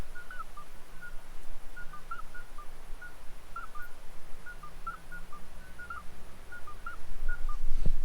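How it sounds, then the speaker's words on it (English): Owls call repeatedly at night in rural Spain, short mid-pitched hoots coming from a distance in a steady, irregular series over a low, noisy outdoor background. "this part of Spain is full of those owls. Yeah, they make a lot of noise and they start when the sun goes down"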